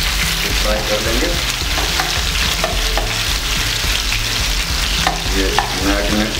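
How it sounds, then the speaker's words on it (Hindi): Marinated chicken fries in hot oil with a loud, steady sizzle and crackle, while a spoon stirs and scrapes the pan now and then, for a Hyderabadi chicken kadi. "ये मैरिनेट किया हुआ चिकन को पहले फ्राई कर लेंगे।"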